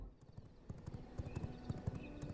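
Horse hooves clip-clop in a steady, quick rhythm in the video game V Rising, fairly faint under a soft ambient bed with a few light high chimes.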